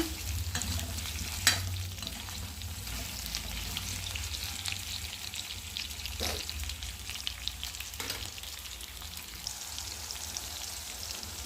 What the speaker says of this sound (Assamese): প্ৰথমতে এয়া কোমোৰাখিনি ফ্ৰাই কৰি লওঁচোন।